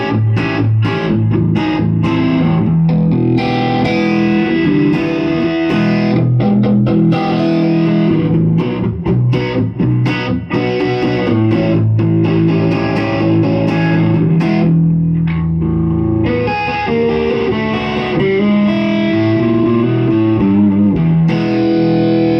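Epiphone Joe Bonamassa Les Paul Standard, a 2015 limited-edition electric guitar, played through its neck pickup with heavy distortion: sustained chords and choppy riffs, loud and continuous with brief rhythmic stops.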